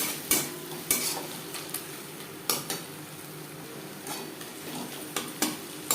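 Ginger and green chili paste fries and sizzles in a pan for a Bengali prawn malai curry, with a spoon stirring and scraping in several distinct knocks over a steady close hiss.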